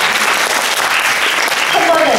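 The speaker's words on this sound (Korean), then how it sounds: "박수가 나오네요." At a university book forum talk, a lecture audience breaks into steady, full applause, a dense wash of clapping filling the hall. A speaker's voice comes in faintly over it toward the end.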